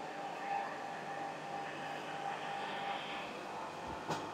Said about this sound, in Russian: Работает двигатель, конечно, тихонечко.